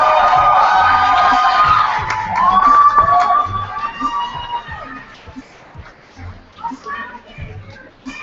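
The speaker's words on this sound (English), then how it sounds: "let's applaud and keep applauding as we welcome up to the stage our next reader" A school crowd at a youth poetry slam semifinal applauds and cheers loudly, with whoops and shouts rising and falling before thinning into scattered clapping and chatter.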